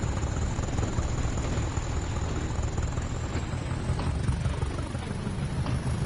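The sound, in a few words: BR Class 20 diesel locomotive engine, video game Train Sim World 5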